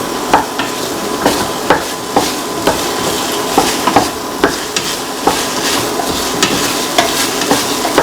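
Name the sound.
stirring salted tomato potato rice mixture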